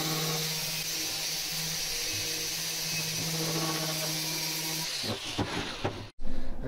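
A power tool strips old paint from the center of a driveshaft, droning as one loud, steady whine with a grinding hiss for about five seconds before it cuts out, leaving a few clanks and knocks.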